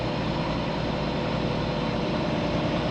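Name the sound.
truck engine idling and revving in traffic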